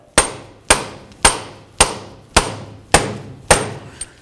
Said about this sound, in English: We're just going to give it a couple loving bonks on the end here with a nice rubber mallet.